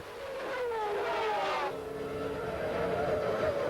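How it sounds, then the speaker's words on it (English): Formula 1 cars of the 1992 season accelerating away from the race start at the Portuguese Grand Prix, a loud sustained high-pitched engine wail with rising and shifting tones from several cars, no voices over it. "As the lights changed, he made his customary superb start to head Mansell"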